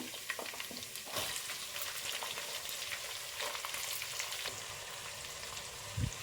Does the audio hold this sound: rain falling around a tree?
no